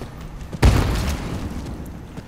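Grenade explosion in the video game R.I.P.D. The Game, a single sudden deep boom that decays over about a second amid low game background.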